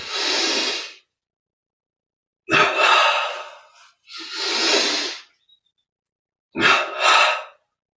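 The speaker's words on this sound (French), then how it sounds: "on prend une grande inspire et on contracte tout" Deep breaths during a Kriya Yoga meditation exercise: three or four long airy inhalations and exhalations, each lasting about a second, separated by silent pauses, close and clear.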